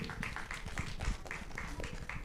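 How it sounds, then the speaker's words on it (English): An audience at a festival prize draw claps for a lucky winner, with a light, scattered patter of hands and a voice speaking over it. "Congratulations, a round of applause for our lucky winner."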